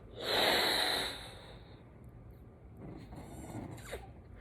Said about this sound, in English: You take a deep breath in from your nose, and then you inflate it.